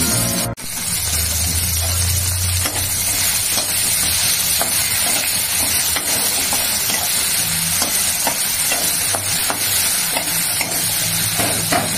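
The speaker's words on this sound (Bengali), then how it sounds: "একটা লবঙ্গ আর দারচিনি তেলের উপরে দিয়ে দেবো।" Clove and cinnamon hit hot oil with a sudden loud burst, then settle into a steady, close sizzle with scraping stirs over it.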